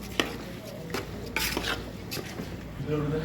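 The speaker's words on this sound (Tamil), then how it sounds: "நல்ல ஒரு கிண்டி இருக்காங்க." A spoon scrapes and stirs mutton pulao with rice in a metal pot, making several distinct clanks and rasps over a soft background sizzle.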